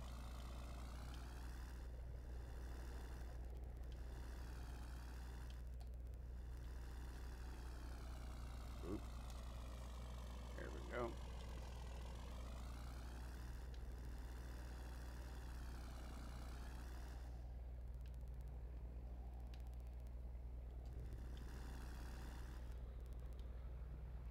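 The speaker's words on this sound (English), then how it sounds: "listen to that engine on that freightliner" A Freightliner truck engine in a video game idles steadily with a deep continuous rumble, a few faint clicks and shifts in tone along the way.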